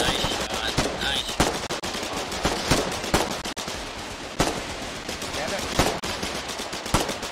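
Video game gunfire, with bursts of sharp automatic shots and single cracks repeating unevenly throughout at close range over a busy background.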